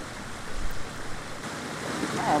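A waterfall pours into a pool at a fly-fishing spot, heard as a steady, even rush of water at a moderate distance, with slight gusty swells and no voices.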